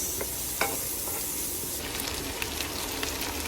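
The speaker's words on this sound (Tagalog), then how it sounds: "nagigisa na tayo ng sibuyas at ng bawang" Onions and garlic sauté in a hot pan, giving a steady, close sizzle and hiss broken by a few sharp scrapes and taps as the ingredients are stirred.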